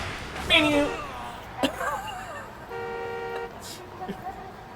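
A car horn in the video game Judgment gives a sustained toot amid a few short chirpy tones and thumps, with a voice speaking briefly around it.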